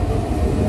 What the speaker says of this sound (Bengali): ফাইনালি কিন্তু আমাদের ট্রেন কিন্তু দীঘা স্টেশনে ঢুকছে